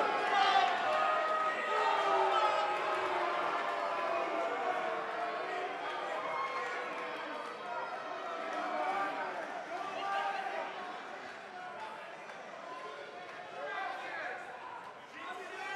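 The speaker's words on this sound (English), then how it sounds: "Sounds like this crowd is ready for this fatal four-way match to get underway." Arena crowd in WWE 2K19 roars and cheers steadily ahead of an NXT fatal four-way women's match, a dense, sustained wall of voices that slowly eases in loudness.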